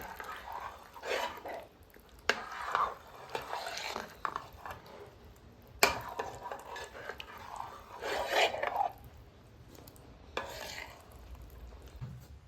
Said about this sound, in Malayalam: നല്ലതുപോലെ ഒന്ന് ഇളക്കി കൊടുക്കണം.